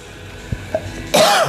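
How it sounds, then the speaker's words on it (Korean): A couple of small throat noises, then one loud, close cough near the end. "아, 기침 나오려고 그래."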